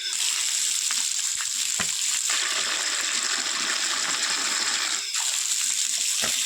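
Tap water runs hard into a bucket being filled for watering a tulsi plant, a steady rushing gush that holds almost unbroken throughout, with a brief dip near the end.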